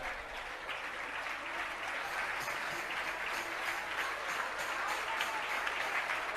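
Steady applause from a ceremony audience at a grand pichhika-changing event in Dongargarh, Chhattisgarh, sustained dense clapping from many hands throughout, moderately loud and continuous without a break.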